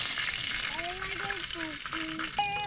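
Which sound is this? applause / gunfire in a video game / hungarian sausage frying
hungarian sausage frying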